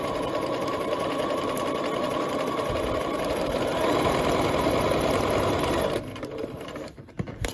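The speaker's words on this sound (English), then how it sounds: "Got that all lined up again, and continue stitching." A sewing machine runs steadily, stitching the sleeve of a McCall's 8220 top with a continuous close mechanical whir, then stops near the end, leaving a few faint handling clicks.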